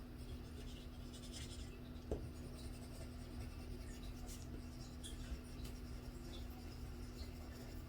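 A white colored pencil burnishing over paper, a faint continuous scratchy rubbing close to the listener under a steady low hum.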